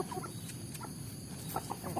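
Free-range village chickens on a traditional farm cluck intermittently in short bursts over a steady background hum, outdoors and at moderate distance.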